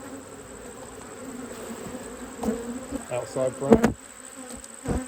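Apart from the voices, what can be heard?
honey bees buzzing around an opened hive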